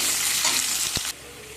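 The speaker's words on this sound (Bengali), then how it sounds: "কেটে রাখা পেঁয়াজগুলো দিয়ে দেবো দিয়ে ভালো করে ভেজে নেব" Onions sizzling in hot oil with whole cardamom, cloves and cinnamon, a steady broadband fry with a brief stir knock near the end before the sizzle drops to a quieter hiss.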